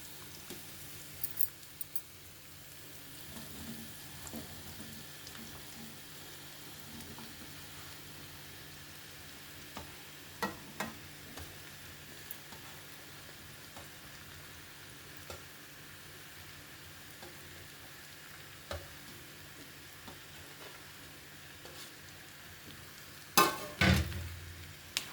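Ridge gourd pieces frying in a pan, a soft steady sizzle with occasional stirring clinks and scrapes, one louder clatter near the end, no talking.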